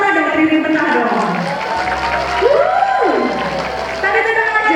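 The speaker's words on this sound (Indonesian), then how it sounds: "Tepuk tangan dong tribun tengah dong." Audience clapping and cheering from the middle grandstand during a university pharmacy field trip event, a loud crowd roar with whoops that runs throughout under the talk of a host on a microphone.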